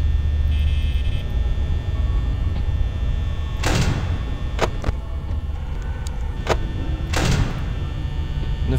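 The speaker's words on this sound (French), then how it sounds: "Dès qu'il est là on active la porte." Mechanical security door sliding shut in Five Nights at Freddy's, two short broadband clanks a few seconds apart over a constant low electrical hum, with fainter ticks between them.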